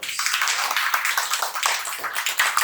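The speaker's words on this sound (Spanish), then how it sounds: "Un aplauso a estos hermanos" A church congregation applauds, a dense continuous patter of many hands clapping at moderate volume throughout, with no clear voices over it.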